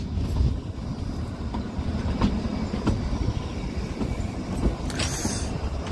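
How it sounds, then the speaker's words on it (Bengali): The Himalayan Queen toy train runs on the Kalka–Shimla line through Koti station without stopping, a steady loud rumble with regular wheel clacks and a brief squeal near the end. "কোটি স্টেশন পার করছে আমাদের হিমালয়ান কুইন"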